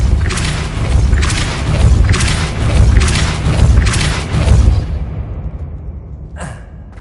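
The Depulso force spell is cast in the video game Hogwarts Legacy: a series of loud rumbling booms and whooshing bursts rolls for several seconds, then fades into quiet with one faint short swish at the end.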